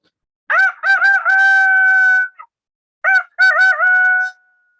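A rooster crows loudly and close, two long full calls with a short pause between them, clear and alone.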